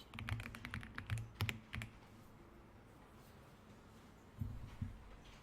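Quiet computer keyboard typing in short bursts of rapid keystrokes, separated by a pause of near silence, with no voices.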